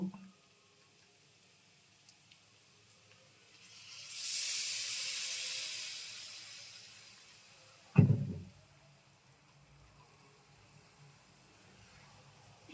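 Water poured into a pan of cooking papaya and chickpea ghonto makes a loud rising hiss that swells and then fades. A short clatter follows, like a utensil knocking the pan, then only faint quiet background remains, with no speech.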